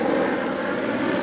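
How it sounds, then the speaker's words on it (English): A helicopter passes overhead outdoors above a vegetable garden, a steady broadband engine and rotor drone that fills the whole moment without any talking. "Oh, we got a helicopter up there."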